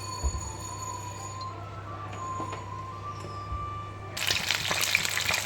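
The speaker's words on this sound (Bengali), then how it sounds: "এদিকে আমি সর্ষের তেল গরম বসিয়ে দিয়েছি আর এটাই মাখিয়ে নিয়েছি শুধুমাত্র হলুদ নুন হলুদ আমি এখানে অ্যাড করব না ঠিক আছে একটা একটা করে আমি ভেজে নিচ্ছি" Bhetki fish pieces dropped one by one into hot mustard oil, a faint background hum giving way to a sudden loud, broad sizzle that continues up close, no talking.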